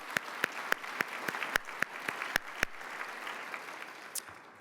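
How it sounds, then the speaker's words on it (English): Audience applause at an evening corporate citizenship award presentation, a steady wash of clapping with sharp individual claps standing out, fading toward the end. "Just another round of applause for both of them."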